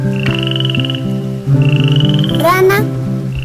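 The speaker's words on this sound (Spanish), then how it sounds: "Rana" Frog croaking in a loud, repeated rhythmic call, close and clear, with tonal musical sounds running alongside.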